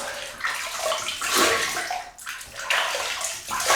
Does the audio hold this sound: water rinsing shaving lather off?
yes